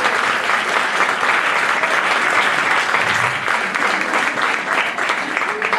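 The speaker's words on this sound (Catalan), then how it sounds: "aplaudiu, si voleu, aplaudiu a fer d'ells." Steady audience applause fills a room at an anniversary gathering, dense and sustained for several seconds with no break and no talk over it.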